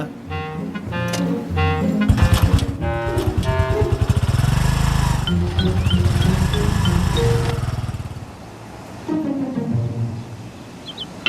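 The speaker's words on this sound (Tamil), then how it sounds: "இன்ஜின் ஆன் பண்ணு" An engine runs steadily and loudly with a low rumble, while tonal chimes ring briefly over it before it quiets near the end.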